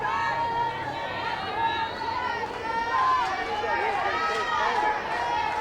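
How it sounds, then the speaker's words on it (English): A crowd at a college softball stadium buzzes with excited chatter and shouts, a steady mid-level din under close commentary. "Crowd getting into it here."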